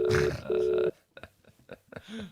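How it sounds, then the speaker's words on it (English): A telephone call rings out unanswered, two steady ringback tones sounding in quick succession, followed by faint murmuring voices and small noises. "I keep saying I'm ringing my friends, and none of them are picking up."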